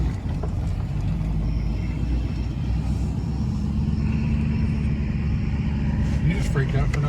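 Truck cab interior while driving with a window down, a steady low engine and road rumble mixed with wind buffeting, continuous and fairly loud, with people talking over it.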